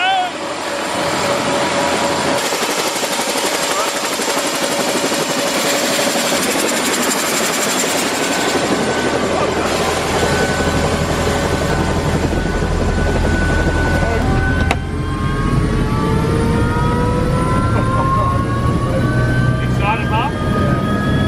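A helicopter in flight roars loudly and continuously from inside the cabin, its rotor thump and engine whine steady throughout, with people talking over the din.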